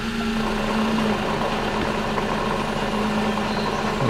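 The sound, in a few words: Daewoo Matiz engine running in second gear, speedometer cable noise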